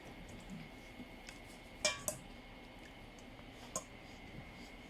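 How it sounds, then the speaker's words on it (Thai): A big spoon stirs chicken for frying in a bowl, giving a few sharp metallic clinks, two close together and one later, over a quiet, soft background of mixing. "ช้อนใหญ่นะคะอหา ใ่ไปเลยค่ะก็ใช้ช้อนคนนะคะ"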